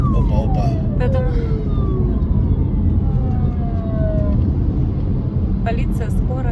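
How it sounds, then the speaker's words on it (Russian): Police car and ambulance sirens wail past on a busy highway toward Yalta, their pitch sliding downward as they go by, heard over steady traffic and road noise inside a moving car while people talk. "Полиция, скорая."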